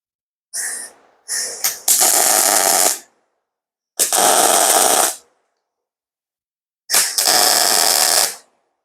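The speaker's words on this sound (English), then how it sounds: "we're gonna weld this out" Welding out a joint, heard as three separate bursts of loud crackling, hissing arc noise, each about one to two seconds long, with silent gaps between them.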